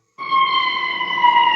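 Ambulance siren sounding close and loud, a steady wailing tone that starts abruptly and holds for over a second, with no talk over it.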